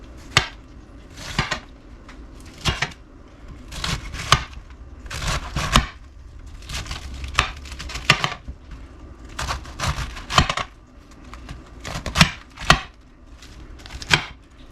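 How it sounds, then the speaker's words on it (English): A knife chops cored cabbage quarters on a cutting board with steady, rhythmic, close-up thuds repeating throughout, with no voices. "Then I just proceed to just chop it up."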